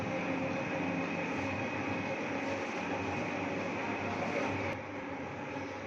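An electric mixer beats chocolate muffin cake batter at higher speed, giving a steady, dense whir that runs throughout and eases slightly near the end.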